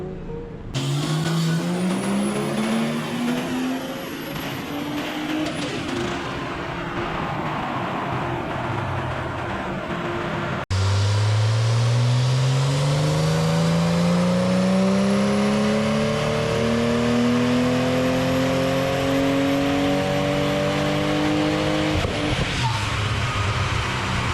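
Ethanol-fuelled race car engine revving hard on a dyno, loud and close, with long rising sweeps as it climbs through the revs, a brief drop near the middle, then a second, stronger pull.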